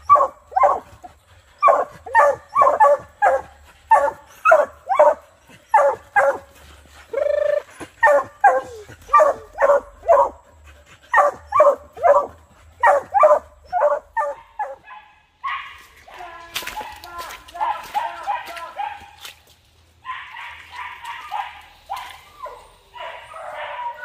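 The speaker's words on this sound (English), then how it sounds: "I just want to hear dogs. Dogs I want to hear." Hunting dogs on an agouti hunt bark repeatedly in a steady, rhythmic series of loud barks, followed by whimpering and yipping toward the end.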